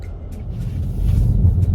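Inside a car driving through a snowstorm, a steady low engine and road rumble swells slightly louder, with no talking.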